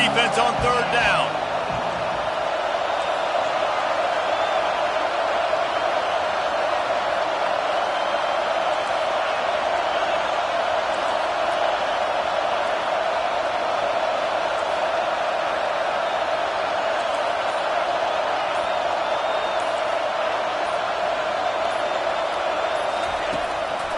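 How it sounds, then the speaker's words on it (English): A roaring college football stadium crowd at Georgia vs Oklahoma, getting louder behind the defense on third down, a dense, steady wall of cheering and noise that lasts throughout with no pauses. "Decibels rising as the crowd gets behind this defense on third down."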